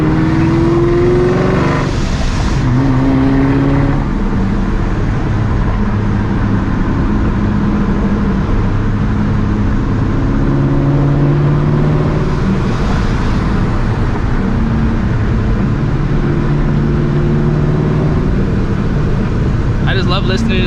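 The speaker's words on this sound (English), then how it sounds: "I just love listening to like the blow-off valve like bouncing off the walls of these houses" A supercharged 2004 Mustang GT drives between house walls, its engine droning steadily throughout, with a few hissing blow-off valve bursts and a voice talking over the car.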